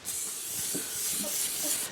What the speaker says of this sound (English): What we're gonna do is we're gonna go ahead and spray this.